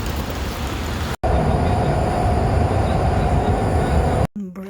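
Loud, steady rumble of a metro train in motion in Prague, a constant hum with a brief cut near the start and end.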